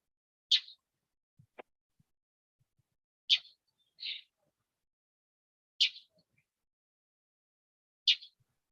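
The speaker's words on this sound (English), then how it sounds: "here's what I'm getting from this bird and all those chirps" A small bird chirps on a roof in short, sharp calls, about five of them spaced a few seconds apart, faint against a quiet background.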